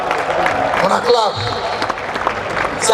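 A live crowd at a comedy and music concert breaks into applause and cheers, dense clapping and voices swelling close by, with a presenter's voice mixed in.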